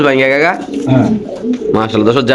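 An exhibition pigeon coos close by, loud rolling throaty calls repeated across the clip, with a voice talking alongside.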